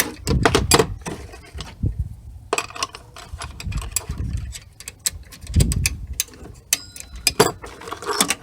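Ratchet clicking as a Torx bolt is tightened back in on a 2016 Chevy Cruze LT 1.4L engine after spark plug replacement, a series of close, irregular mechanical clicks and clatters in short bursts.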